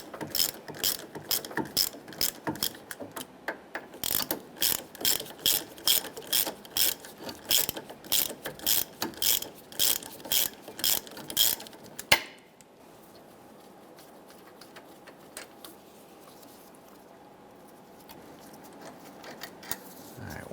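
Hand ratchet loosening caliper bracket bolts on a 2005-2010 Chrysler 300, rapid rhythmic clicking strokes for about twelve seconds, close and crisp, ending in a sharp crack as the bolt breaks free, then quiet.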